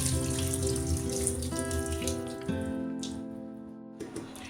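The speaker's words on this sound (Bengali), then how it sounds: "পাস্তার জলটা ঝরিয়ে নেব।" Water drained from boiled pasta pours and trickles steadily into a sink or container, a running, splashing stream that tapers off toward the end, close up with no voices.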